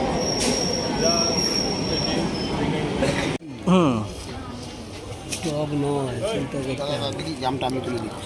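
A passenger train runs on its rails with steady rumble and loud high-pitched wheel squeal, a sharp break partway through, and voices talking over it.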